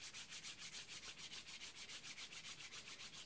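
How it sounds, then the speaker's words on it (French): Two hands rub briskly together at a steady back-and-forth rhythm, about six strokes a second, giving a soft, close swishing friction that stays quiet and unbroken, with no voice. "On frotte les mains ensemble."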